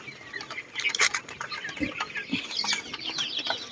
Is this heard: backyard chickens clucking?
yes